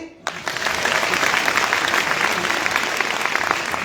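After a short quiet moment, an audience at a motivational talk by Ramveer sir bursts into dense, steady clapping that stays loud and even until the end.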